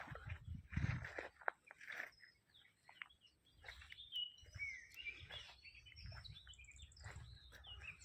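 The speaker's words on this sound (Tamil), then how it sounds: "சின்னசாக ஒரு குருவியோ ஏதோ ஒரு பறவை கத்தினா எவ்வளோ இனிமையாக இருக்குது" A small bird chirps and tweets in short, high, scattered calls across a quiet, peaceful temple courtyard, faint and somewhat distant, with soft rustles and footsteps underneath.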